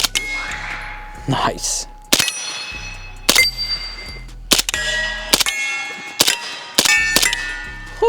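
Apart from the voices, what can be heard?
bullets hitting a steel gong target at 100 yards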